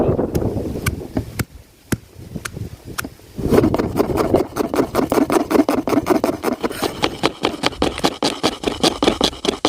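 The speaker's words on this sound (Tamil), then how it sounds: "வரல இஞ்சி பூண்டு நல்லா இடிச்சுக்கிறோம்." Ginger and garlic being pounded for a mud crab roast, a steady series of sharp, close thuds that starts sparse and then quickens into a fast, even rhythm, with no talking.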